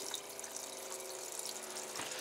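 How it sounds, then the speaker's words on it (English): An electric water pump running inside an Airstream trailer on DC power, giving a steady, continuous hum with water rushing through the plumbing, moderately loud and close throughout with no talking. "We can turn the water pump on."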